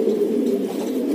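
A Hyderabadi pigeon coos in a continuous low, throaty purr, close and steady with no other sounds.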